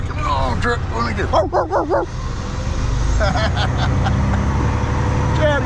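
A chatty dog yips and barks in a rapid run of high, whiny calls near a truck on a road trip, over steady road rumble, then a few fainter yips follow.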